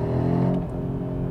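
An Audi RS3 400 hp sedan (2022) hums steadily at moderate load, its engine note rising briefly then settling, close and continuous with no voices.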